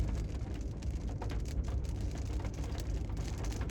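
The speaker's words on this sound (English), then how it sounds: "It's raining." Steady rain drumming on a truck, a dense, even patter with a low rumble underneath, continuous and close, with no talking.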